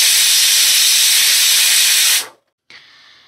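A pressure cooker boiling goat liver lets out a loud, steady jet of steam hiss that cuts off abruptly, then after a short pause resumes as a quieter hiss.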